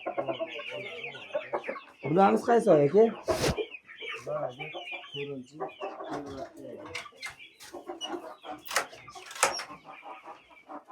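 Chickens and young chicks cluck and peep steadily at close range in a farmyard, with louder bursts of clucking and a sharp squawk, while people talk briefly between the calls.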